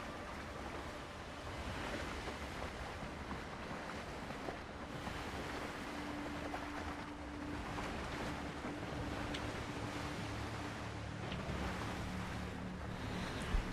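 Ocean waves slapping and washing against a sailing boat in the pirate survival game Windrose, a soft, continuous surf and wind rush with occasional splashes, fairly quiet and without talk.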